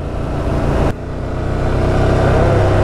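A motorcycle engine rumbles steadily and close, with a brief dip in the middle before the revs build back up and hold.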